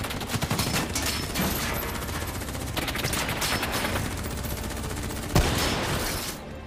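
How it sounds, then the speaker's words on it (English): Dense gunfire erupts in the Call of Duty Black Ops 3 mission The Storm, with overlapping rapid shots and automatic bursts close and loud throughout and a sharp heavier blast near the end. "Who's shooting?"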